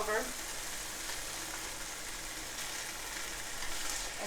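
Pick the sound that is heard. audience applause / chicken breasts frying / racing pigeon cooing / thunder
chicken breasts frying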